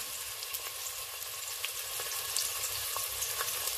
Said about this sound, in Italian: sentite come sfrigola